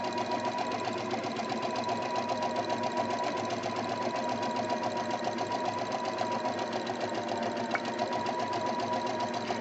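Sewing machine stitching ribbon pieces together, running as a fast, steady, continuous mechanical whir with close, even rhythmic clatter for the whole stretch and no talking.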